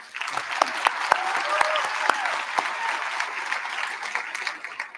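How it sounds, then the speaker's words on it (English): A commencement ceremony audience applauds in a large hall, a steady wash of many hands clapping for five seconds at moderate distance, with a few sharper claps standing out near the start. "Please give them a round of applause."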